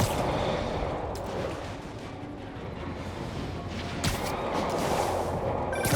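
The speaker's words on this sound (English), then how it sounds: "Demons are firing on our APC." Gunfire from demons strikes an armored personnel carrier in Marvel's Spider-Man Remastered, a dense, continuous roar of shots and impacts with sharper bursts near the start and middle, no voices.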